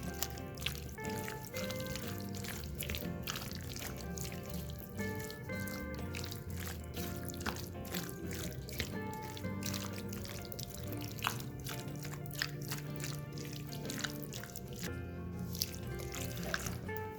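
Sriracha and other sauces being stirred together in a bowl for a baked chicken marinade, with soft wet mixing and dripping sounds that run steadily throughout, close and fairly quiet, with no talking.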